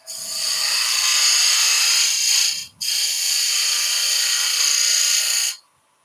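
A skew chisel shaves wood on a spinning lathe while shaping a dovetail on a turned German smoker. Two loud, even cutting passes of bright, rushing hiss are split by a brief pause, then it stops abruptly.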